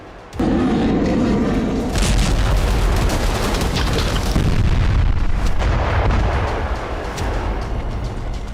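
Explosions during Israel-Iran strikes, a loud continuous roar of booming blasts and rumbling with sharp cracks layered through, sustained and heavy from start to finish.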